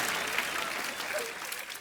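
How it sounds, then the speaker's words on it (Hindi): A comedy show studio audience breaks into brief, dense applause, a steady wash of clapping without speech. "ओए तालियां भी।"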